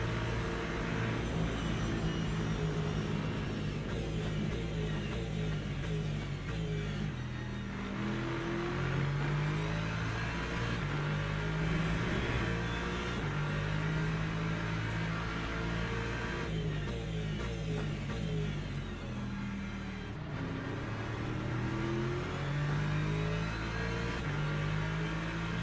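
Race car engines in Le Mans Ultimate at Daytona, including a chasing Ferrari, drone steadily with rising and falling revs and gear changes, a constant, moderately loud engine roar without talk.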